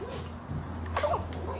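A single short sneeze from a woman in a quiet room, close by, with faint low background hum.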